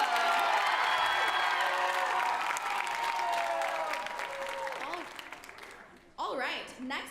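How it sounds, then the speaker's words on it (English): A show choir audience at a high school stage gives a big round of applause for three performers, steady dense clapping that slowly fades, then a short burst of cheering near the end. "Let's give one more big round of applause for MacGyver, Luke, and Micah."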